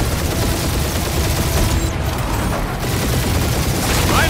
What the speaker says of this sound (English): Taking fire! Direct hit! Now this is a proper dogfight!